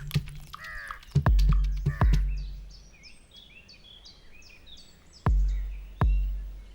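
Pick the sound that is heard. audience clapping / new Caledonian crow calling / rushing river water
new Caledonian crow calling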